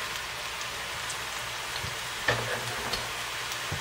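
Mushrooms and onions frying in a pan, a soft, steady hiss with a few clicks and pops, fairly quiet and close, without any voice.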